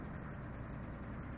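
A 1986 Ford F150 engine idles just after a cold start, a steady, close, low rumble with slight vibration and no breaks.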